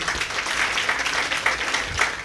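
Audience applause at a Gujarati literary humour event honouring a guest, a dense, steady burst of clapping from a crowd filling the hall, close and loud with no speech.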